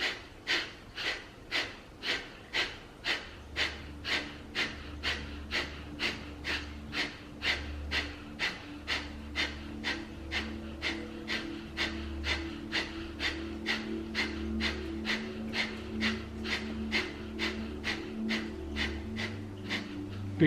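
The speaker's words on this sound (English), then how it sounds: "Big breath in through the nose." Rapid rhythmic pumping breaths drawn in and pushed out through the nose during tantric breath meditation, a steady train of close, sharp sniffing pulses over a low sustained hum.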